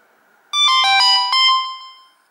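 A Samsung GT-E1150i mobile phone plays its ringtone through a loud built-in speaker: a bright, electronic melody of stacked tones that starts abruptly, carries loudly for about a second and a half, then fades out alone.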